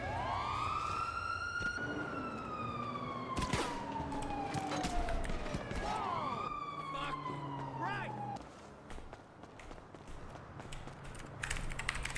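Police car siren wailing in a video game chase, a loud sweeping tone rising and falling over engine and crash noise, with a second siren layered in midway.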